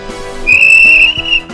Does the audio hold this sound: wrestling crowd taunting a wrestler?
no